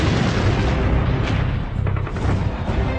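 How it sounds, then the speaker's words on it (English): Heavy aerial bombing of Operation Cobra, the Allied breakout from the Normandy beaches, heard as a dense continuous roar of rumbling explosions with overlapping booms throughout. "Operation Cobra, the Allies' heavy bombing campaign to break out from the beaches, unleashes 9 million pounds of bombs."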